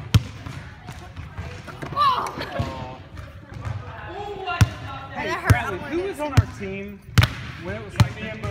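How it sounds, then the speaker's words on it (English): A basketball is dribbled on a hard court, with bounces thudding at an uneven pace and growing sharper and louder toward the end, while voices talk and shout over them. "Nathan Fox dribbles behind the back"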